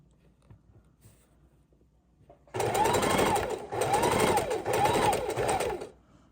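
A sewing machine runs loud and close in three sustained bursts with brief pauses between, stitching lace trim onto a junk journal cover, after a quiet lead-in.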